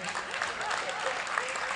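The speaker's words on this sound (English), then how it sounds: "Can you clap for the older generation who are partnering?" An audience at a Generation Unlimited Nigeria event claps, producing a steady, dense patter of applause from a crowd that carries evenly throughout with a faint voice beneath.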